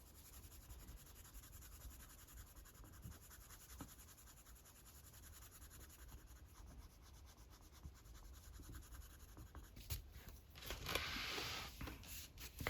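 Waxy coloured pencils rub and scratch over paper in soft, quiet strokes, with a louder burst of scraping near the end.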